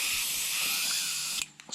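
A paint spray gun blasts out a steady, loud hiss while being sprayed clean during cleanup, running continuously before cutting off near the end with a couple of short sputters.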